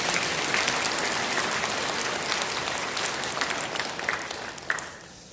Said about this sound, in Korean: 우리 서로에게도 응원과 격려의 박수를 좀 쳐주시기 바랍니다.